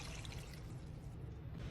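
Water poured into a pan of trofie pasta simmering with squash cream, a soft steady trickling and bubbling wash that runs continuously at low level with no voices over it.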